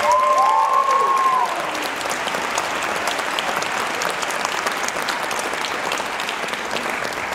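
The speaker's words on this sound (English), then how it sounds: "One more big round of applause, please, for Carter." Sustained, loud audience applause fills a school jazz ensemble winter concert hall, a steady wash of clapping from start to finish with a brief tonal sound near the beginning.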